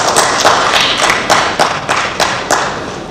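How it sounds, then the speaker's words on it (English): Audience applause at a live literary festival event, a steady wash of clapping from a crowd with several sharper bursts standing out, sustained for a few seconds with no talking. "can we have a round of applause for Ms. Kiran?"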